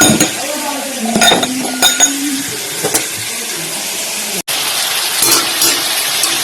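Chicken sautés in a home kitchen pan with garlic, onion and chilli while a spoon stirs it. Close metallic clinks and scrapes of utensil on pan come in irregular bursts over a soft sizzle.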